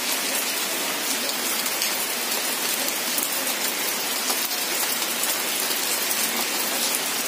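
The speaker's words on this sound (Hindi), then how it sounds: "बारिश हो रही है" Steady rain pours outdoors, a dense, even hiss of drops on surfaces that stays constant and fairly loud throughout, with no voices.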